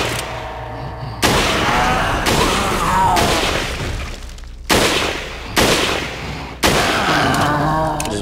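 Video game gunfire: heavy, booming shots and bursts hit repeatedly in loud clusters with sudden onsets, filling the stretch with dense rumbling noise and no clear talk over it.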